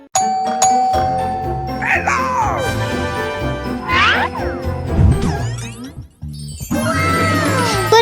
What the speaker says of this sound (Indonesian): tiba-tiba bel pintu berbunyi